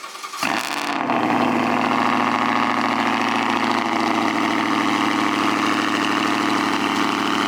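A car engine with a newly installed exhaust cranks and catches about half a second in, then settles into a loud, steady, throaty idle that continues without talk to the end.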